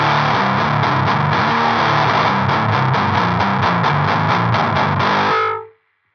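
Heavy, saturated distortion from a Behringer HM300 Heavy Metal pedal driving a guitar riff, loud and steady with chugging low notes and some hiss, stopping abruptly near the end.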